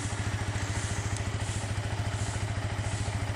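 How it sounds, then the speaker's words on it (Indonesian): A Yamaha MT-15 motorcycle engine idles steadily nearby, a low, even, rapid thumping pulse with a faint hiss above it, alone without voices. "Kemudian kalau kita nyalakan mesinnya,"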